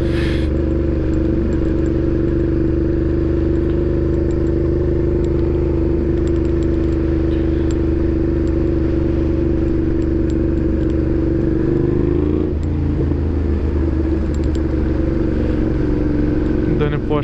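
A motorcycle engine idles close by in a steady, loud low rumble that stays level throughout, with a brief shift near the end and light clatter on top.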